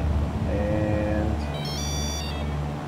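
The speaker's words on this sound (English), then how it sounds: "you can actually hear my stall warning going off because I was trying to lift off the ground a little early" A small aircraft's stall warning sounds during takeoff, a high tonal beep lasting under a second over steady engine and cockpit drone.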